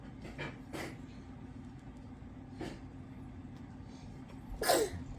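A single sharp sneeze bursts out near the end, louder than the quiet room, after a few fainter breathy sounds.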